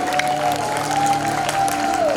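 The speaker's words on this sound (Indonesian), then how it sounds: "Kasih tepuk tangannya dong." A senior church congregation at a Monday onsite service applauds, a steady, fairly close patter of clapping with a sustained tone from music or feedback beneath it.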